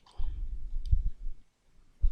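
A single sharp click of the Tab key on a computer keyboard while coding a web layout in Visual Studio Code. It is close and brief, with soft low rumble before and after and no talk.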